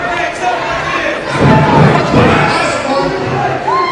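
A live wrestling crowd jeers heel Chuck Payne, loud mixed shouting and booing swelling mid-way, with a commentator talking over the noise.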